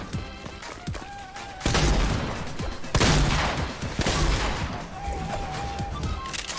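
Rapid gunfire in a first-person shooter video game, with loud bursts of shots and crashing impacts in quick succession, fairly dense throughout.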